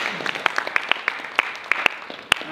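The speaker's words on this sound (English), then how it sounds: "give yourself a round of applause" An audience at a book launch event for a Habitat for Humanity project applauds, a sparse spread of scattered claps and small cheers from a moderately distant crowd, fairly light and uneven.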